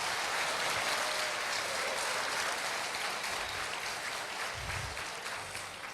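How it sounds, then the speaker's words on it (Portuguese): A church congregation gives a long, steady round of applause during a worship service, dense and even throughout with no voices above it. "Dê para Jesus uma forte salva de palmas"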